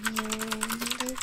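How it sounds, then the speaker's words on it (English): Rapid, even keystrokes clatter on a computer keyboard, picked up close by a binaural microphone, while a steady low hum runs beneath. "Keyboard sounds."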